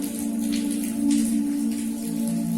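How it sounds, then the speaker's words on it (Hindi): Evening rain falls outdoors after a hot spell, a steady soft patter of drops on surfaces that continues evenly throughout over a low steady hum, with no one talking. "आज यहाँ लगभग 5 बजे के बाद बारिश हो गई है"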